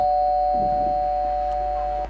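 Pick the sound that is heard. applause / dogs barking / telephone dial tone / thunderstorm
telephone dial tone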